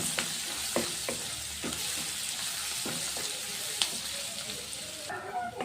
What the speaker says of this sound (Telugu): బాగా నెయ్యిలో కొంచెం ఫ్రై చేసుకోవాలి.